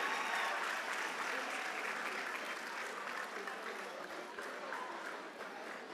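Audience applause at a Model UN conference in Enugu: steady, moderately distant clapping from a crowd that holds for several seconds and fades slightly toward the end.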